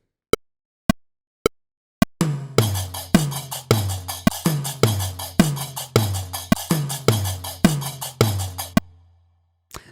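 A Moroccan rhythm groove on percussion opens with four sparse, evenly spaced clicks, then a full pattern of sharp hits over deep low thumps repeats steadily for several seconds before stopping.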